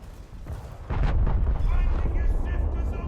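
The Scharnhorst battleship's 283 mm guns fire in a naval video game, a heavy booming blast that swells suddenly and rolls on as a loud, sustained rumble with faint crackling debris afterward.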